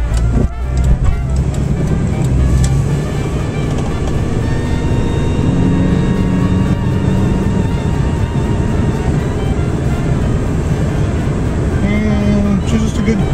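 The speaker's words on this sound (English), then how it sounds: "Traffic out today." Road traffic heard from a car, a steady, loud engine and tyre drone with passing-vehicle rumble throughout, and muffled voices faintly underneath.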